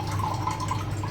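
Water running steadily over a stone mortar (kundi) as it is washed, close and constant, a brief uninterrupted stream with a low hum beneath it.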